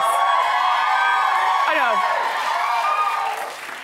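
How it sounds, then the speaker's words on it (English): Studio audience at a daytime talk show cheering and whooping loudly, a sustained roar with high shouts rising above it that fades toward the end, and a brief voice speaking over the noise. "I think they're cheering for my Betsy Johnson dress."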